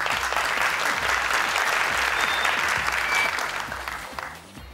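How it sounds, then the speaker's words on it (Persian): A studio audience on a Family Feud-style TV game show breaks into loud, dense clapping that holds steady for several seconds and then tapers off near the end. "دوستا تشویقشان کنین"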